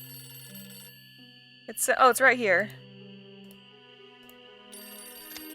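A telephone rings in the Nancy Drew: Ghost Dogs of Moon Lake game, thin electronic trilling over quiet droning ambience, briefly interrupted by a short spoken line before the ringing resumes.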